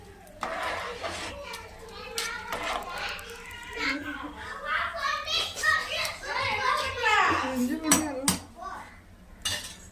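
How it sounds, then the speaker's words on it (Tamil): Four children playing and chattering together indoors at home, lively overlapping voices and shouts with occasional clinks of dishes and cutlery, close and moderately loud. "நம்ம பாப்பா 2 பேரும் அக்கா பசங்க 2 பேரும் விளையாடிட்டு இருக்காங்க."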